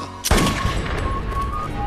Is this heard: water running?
no